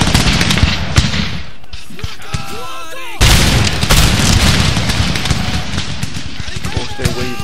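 Musket volleys from massed line infantry in Empire: Total War crash out in dense, loud bursts, one sharp volley hitting near the middle, over battlefield din and a voice calling orders.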